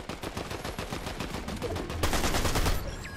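Bursts of automatic weapon fire in a multiplayer shooter video game: fast, rattling volleys that swell louder partway through, sustained and close with no voices over them.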